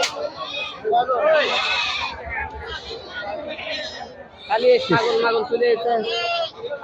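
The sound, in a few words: goats bleating at a goat market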